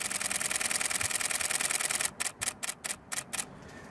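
Canon 7D Mark II shutter firing in continuous burst mode, a long rapid chatter of clicks that slows into about six separate spaced clicks as the buffer fills, close and fairly quiet, with no voices.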